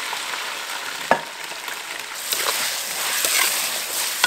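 Chicken stir-fries over low heat in a wok with rock sugar, giving a continuous crackling sizzle broken by a few sharp clicks of a utensil scraping the pan.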